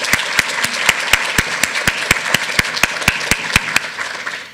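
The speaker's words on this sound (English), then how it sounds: "Please let's give them a round of applause for their generous support." An audience at a university lecture applauds its sponsors, loud and steady clapping with sharp individual claps standing out through the whole stretch, easing off slightly at the very end.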